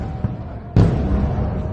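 A missile strike in a Middle East conflict lands with one sudden, heavy boom that rolls on as a low rumble, with a voice speaking in the background.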